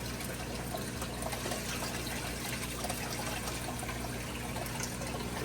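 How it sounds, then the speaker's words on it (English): Steady rushing of aquarium water pouring out continuously, loud and close, with no pauses. "so we can just dump this water"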